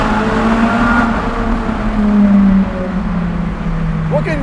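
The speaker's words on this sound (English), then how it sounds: "Just a downshift." Ferrari 458 Speciale engine blipping and revving on a downshift, a loud, close, steady drone with its pitch falling away over a few seconds, no talking.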